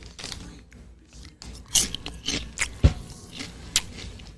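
Close-miked crunching of potato chips, with sharp bites and irregular chewing crackles in a quiet podcast studio, one strong crunch standing out midway.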